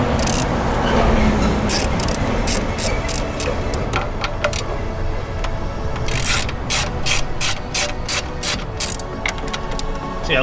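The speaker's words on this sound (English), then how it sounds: "loosen up all these bolts" A ratchet clicks in bursts while loosening valve cover bolts on a Honda Del Sol with a B20 engine, a close, fairly loud series of quick pawl ticks repeating over the whole clip.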